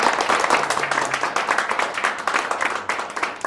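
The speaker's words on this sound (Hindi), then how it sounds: "तालियों से स्वागत चाहूंगा" A theatre audience at a play applauds steadily, dense overlapping claps filling the room with no voices on top.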